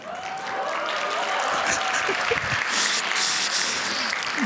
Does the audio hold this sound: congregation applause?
yes